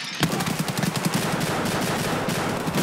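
A shotgun fires in the video game Escape from Tarkov: a sudden loud close blast followed by dense, sustained crackling gunfire filling the rest of the moment.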